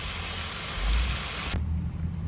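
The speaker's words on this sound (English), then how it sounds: "It started to rain just after I placed these guys in ground." Rain falls outdoors over a garden as a steady, dense hiss with a low rumble beneath, then cuts off abruptly partway through.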